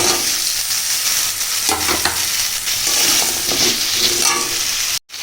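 Taro, potato and tomato with salt and turmeric are stir-fried in a pan: a loud, constant sizzle broken by scraping strokes of the spatula, cutting out abruptly near the end.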